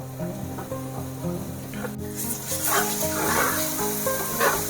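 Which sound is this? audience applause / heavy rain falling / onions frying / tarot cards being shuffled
onions frying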